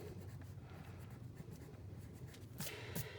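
A pencil writes on paper with a steady, faint scratching, ending in a couple of quick stroke taps, heard close against a low background hum.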